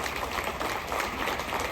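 A crowd at a veterans tribute ceremony aboard the Royal Caribbean cruise ship Anthem of the Seas applauds police officers, a brief, steady burst of many hands clapping at moderate loudness.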